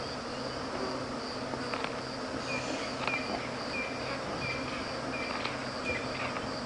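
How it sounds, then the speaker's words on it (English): Dense, steady insect buzzing from flies swarming over an animal carcass in the bush at a South African game reserve, a continuous drone with faint bird chirps above it and no talking. "it's like being outside a beehive almost, the noise from the flies."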